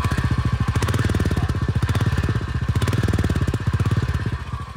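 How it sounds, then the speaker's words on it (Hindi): A Royal Enfield Meteor 350 motorcycle engine rumbles close by with a rapid, even exhaust putter, revving up and settling in a few surges, no talking. "एग्जॉस्ट साउंड गुड है"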